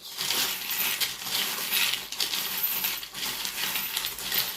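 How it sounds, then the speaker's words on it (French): Small metal charms drop and jingle into a pile, a steady shower of bright clinking, rattling tinkles that runs close and fairly loud the whole time, with brief dips between handfuls. "Je vais rajouter juste des petits breloques."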